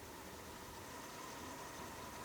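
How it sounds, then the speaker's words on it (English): Austin Rover car with single point fuel injection idles very low, a faint, steady engine hum with a hissy noise floor and no voices. "Start the engine and check base idle. This one is very low."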